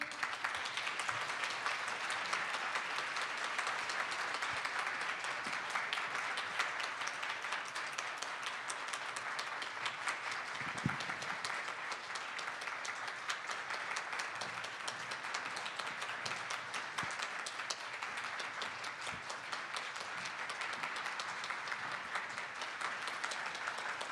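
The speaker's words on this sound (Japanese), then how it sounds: "皆様、お三方をどうぞ盛大な拍手でお見送りください。" A press-conference crowd claps steadily and fairly softly as three guests leave, a long, even patter of applause.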